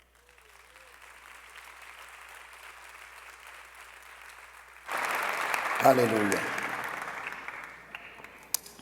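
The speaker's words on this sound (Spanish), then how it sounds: "Denle ese aplauso a Dios." Church congregation breaks into loud applause partway through, a dense burst of clapping with a shout rising over it, following a quieter stretch of speech and murmuring; voices continue under the clapping.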